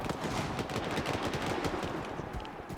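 Continuous gunfire fills a battle in the video game S.T.A.L.K.E.R. 2, a dense, loud barrage of overlapping shots and bursts with no pauses, apparently from several weapons at once.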